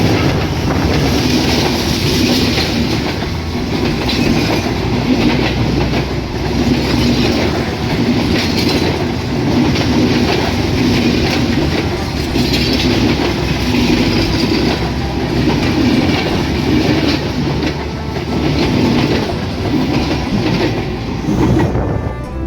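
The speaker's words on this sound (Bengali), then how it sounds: "নীলসাগর এক্সপ্রেস রানীনগর রেল স্টেশনের 1 নম্বর লাইন দিয়ে থ্রু পাস করে চলে যাচ্ছে চিলাহাটি অভিমুখে" Nilsagar Express hauled by a 6625-series locomotive runs through Raninagar railway station on line 1 without stopping, a loud, continuous rumble with rhythmic clickety-clack of wheels over rail joints close by.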